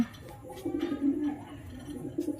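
Racing pigeon chicks coo softly at close range in a low, rolling murmur, several short coos in a loose rhythm with no talk.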